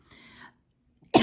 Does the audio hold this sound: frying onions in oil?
no